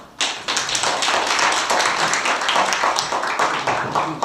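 Audience at an Indian philosophy academic conference clapping to welcome two presenters, steady dense applause starting abruptly and continuing loudly throughout.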